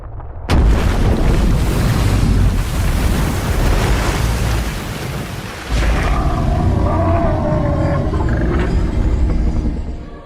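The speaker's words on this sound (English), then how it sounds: "The sea explodes." Sea exploding and ocean waves surging in a fantasy video game, a sudden loud boom followed by a sustained roaring, rumbling wash of surging water that dips briefly and swells again before fading at the end.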